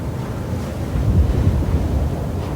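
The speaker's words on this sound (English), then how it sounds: "That's the ocean." Ocean surf rumbles and washes in a low, steady roar mixed with wind buffeting the microphone, swelling slightly midway.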